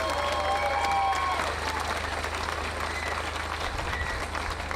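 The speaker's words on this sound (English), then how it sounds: "please give everyone a huge round of applause" Steady applause from an audience at the All Ireland Rally for Life, a dense continuous patter of clapping holding at an even level throughout.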